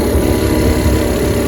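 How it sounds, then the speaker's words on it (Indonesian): An original Honda Astrea 800 motorcycle engine runs close and loud, a steady continuous drone with a low rumble and no clear rise in pitch, heard alone. "Suara mesinnya halus, langsung saja kita gaskan."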